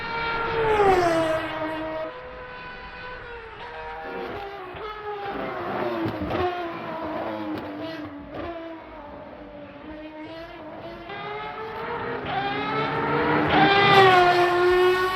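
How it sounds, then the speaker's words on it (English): An Aston Martin Valkyrie's high-revving engine screams through rising and falling gear changes, with harmonic exhaust tones, pops and burbles shifting as it accelerates and slows, heard from trackside. "all the little exhaust pops and burbles and everything just sound so very nice"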